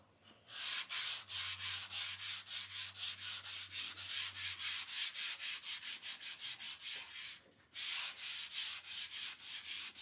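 Sanding strokes rasp back and forth in a fast, even rhythm, loud and close, with a brief pause midway before the regular scraping resumes.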